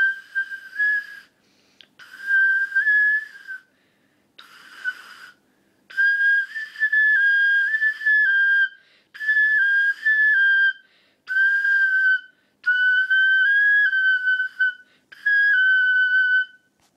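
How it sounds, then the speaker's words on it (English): A replica Neanderthal bone flute being played in a series of shrill, piercing whistled notes, each a second or two long with short gaps between, close and clear against silence. "Here was a recording of me playing the flute, but be wary of the sound,"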